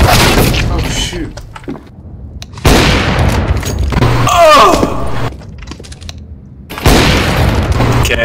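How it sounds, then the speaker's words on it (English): Incendiary grenade blasts and gunfire in the video game CS:GO on the Cache map: several loud booms and bursts of shots separated by quieter gaps, with players talking over the action. "Throwing a grenade. Incendiary. Grenade out."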